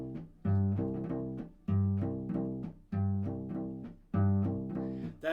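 A cello bows a repeating bass riff on open strings, a pattern of one long note followed by two shorter ones cycling several times, played close and steady.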